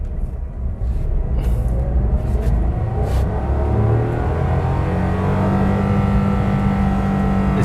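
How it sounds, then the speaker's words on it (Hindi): A car pulls away from a standstill in first gear, its engine rumbling steadily and rising in pitch as it gains speed, close and loud with no talking. "तो हमने स्टार्ट कर दिए और ये गाड़ी चल दी आगे।"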